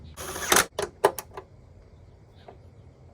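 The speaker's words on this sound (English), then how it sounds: "I'm gonna finish tightening them with a ratchet." Several quick mechanical clicks from a hand ratchet snugging down bolts on a Nissan 350Z door during window regulator installation, a short burst of close, sharp ticks followed by near silence and one faint later click.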